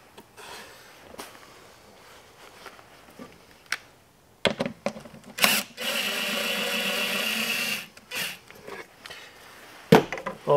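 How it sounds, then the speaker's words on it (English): A jigsaw cuts out a ring, its blade buzzing loud and steady for about two seconds after a few short starts and knocks, with scattered handling clatter before and after. "All we need to do now is take our jigsaw and cut out that ring."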